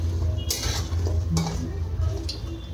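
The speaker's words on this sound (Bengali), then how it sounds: "তবু কম তেল দিয়ে ভাজছি, তাও ওঠে না।" Boiled new potatoes frying in a little oil in a pan, with a low steady sizzle underneath and a few sharp metallic scrapes and clinks from stirring, close and fairly loud, no talking.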